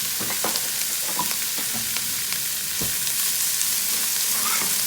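Onions brown in a hot pan for vegan pumpkin soup, a steady moderate sizzle with scattered clicks and occasional stirring taps, heard without voices.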